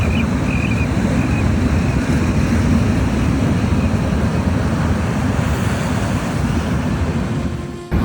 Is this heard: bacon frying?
no